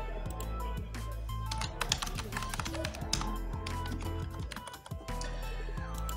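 Someone types a username and password on a computer keyboard while setting up a WordPress site, a quick close patter of key clicks running steadily over faint background music.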